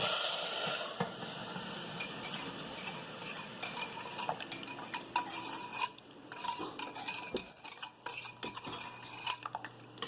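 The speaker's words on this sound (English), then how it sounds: "And you're going to keep whisking." A whisk clatters steadily against the inside of a metal pot as sauce is stirred on the stove, with rapid uneven scraping and clinking close by over a faint background hum.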